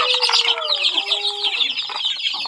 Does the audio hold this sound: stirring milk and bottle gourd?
no